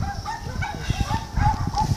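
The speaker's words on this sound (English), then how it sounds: "See? The doggy." A dog gives a few short, yipping barks close by, in quick bursts over a couple of seconds.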